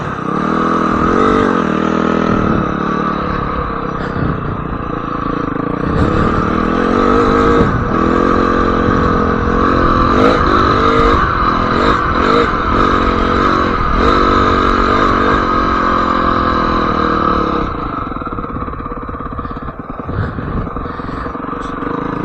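A Honda CRF250X dirt bike with a new clutch being ridden: steady, loud engine drone with revs rising and dipping as gears shift, close to the rider, then easing off near the end.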